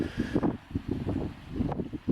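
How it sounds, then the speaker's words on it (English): Strong gusts buffet a campsite on a wet, windy day, with a tent flapping in repeated soft bursts of fabric rustle over a low, steady rumble of wind noise on the microphone. "windy, as you can see from the tent, which is flapping a fair bit"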